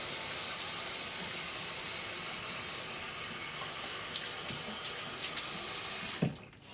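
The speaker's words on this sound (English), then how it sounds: "And there's your water flowing right down." Water runs steadily down a freshly unclogged bathroom sink drain, a continuous close rushing and gurgling that cuts off abruptly near the end.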